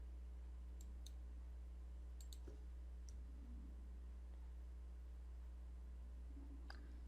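Computer mouse clicks while copying a file name: a few faint, sharp clicks spread irregularly over a steady background hum, with no talking.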